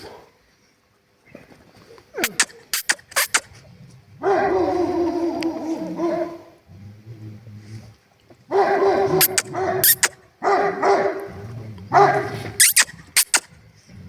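Several street dogs bark and yip in sharp bursts at night, one whining in between, with a person talking over parts of it, at -12 degrees around 3:30 am.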